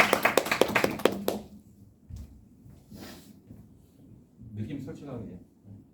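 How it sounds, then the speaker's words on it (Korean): A small group in an interview practice session gives a short burst of clapping lasting just over a second. It stops abruptly, and people speak quietly afterward. "박수 한번 쳐주시고"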